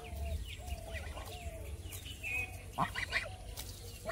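A pet duck at a village home calls out in a few honking quacks over a steady low rural background hum, moderately close.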